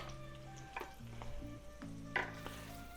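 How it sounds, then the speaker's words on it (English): Onions fry softly in rendered pork belly drippings with a faint, even sizzle, while a few brief clinks and a steady hum sit beneath it. "So now we're gonna add in our onions"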